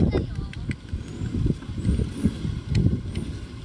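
A car pulls up during a family outing, its engine a steady low rumble close by with faint brake-like hisses and soft intermittent voices in the background.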